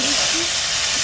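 Potatoes go into a pan over a wood fire where shrimp has just been fried, setting off a loud, close, hissing sizzle that runs unbroken through the short moment.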